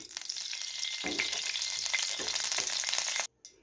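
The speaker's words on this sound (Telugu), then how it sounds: "నెయ్యి వేడెక్కింది" Two spoons of ghee heat in a pan on a gas stove, giving a steady, close hiss and crackle that flares briefly, then cuts off abruptly near the end before a short final burst.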